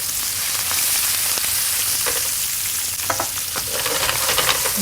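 Portavogie herring fillets fry skin-side down in butter in a pan, with a steady close sizzle, crackle and occasional spits throughout.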